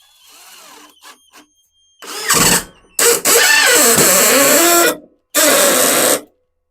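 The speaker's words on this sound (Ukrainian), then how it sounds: "Пробуємо також свердління, друга швидкість" A 12 V cordless drill revs loudly at second speed in several bursts of a few seconds each, with short pauses between, up close.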